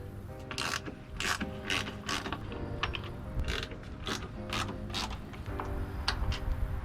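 A ratchet wrench clicks in quick repeated bursts while T40 Torx bolts are backed out of LED light mounts, close and distinct, with brief pauses between strokes.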